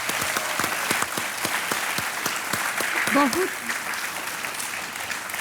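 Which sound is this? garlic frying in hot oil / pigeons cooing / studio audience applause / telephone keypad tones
studio audience applause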